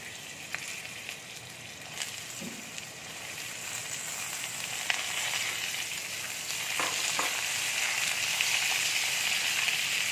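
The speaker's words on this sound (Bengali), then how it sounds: "এবার আমি আলুটা দিয়ে দিচ্ছি" Potatoes frying in hot oil tempered with dried red chilli, a continuous bright sizzle that swells slightly louder, with a few faint clinks and stirs, close and without speech.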